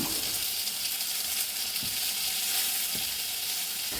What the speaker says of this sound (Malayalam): നന്നായിട്ടൊന്ന് വഴന്ന് കിട്ടണം